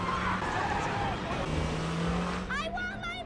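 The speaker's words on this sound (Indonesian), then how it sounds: "Gary pun segera tancap gas dan meninggalkan tempat tersebut." A car engine roars steadily and fairly loud, with a faint tyre screech near the end as it pulls away fast; a voice speaks briefly over the noise.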